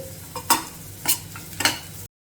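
Chutney ingredients fry in a pan, with a steady sizzle and three distinct stirring scrapes at regular intervals, close up and with no voices, before the sound cuts off abruptly.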